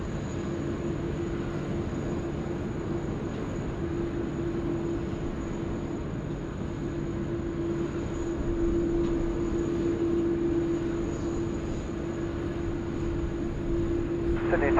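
Airliner rolling for takeoff on runway 16 left at Sydney Airport, bound for Auckland, a steady distant jet roar with a constant whine, under faint radio chatter.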